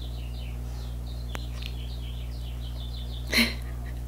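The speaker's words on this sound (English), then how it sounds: "You hear the birds? They're so loud." Birds chirping outdoors in the early morning, with short repeated high calls trickling through the whole stretch over a steady low electrical hum, and a brief brighter burst near the end.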